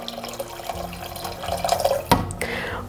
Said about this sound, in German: Wir geben jetzt das warme Wasser dazu